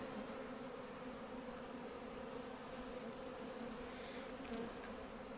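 Honey bees in flight around a hive on a sunny day, a dense, continuous buzz of many insects, steady and fairly faint, with no voices.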